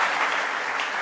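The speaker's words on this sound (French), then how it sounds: "applaudissez pour lui" Audience clapping at a concert event, dense steady applause from a crowd throughout a short burst.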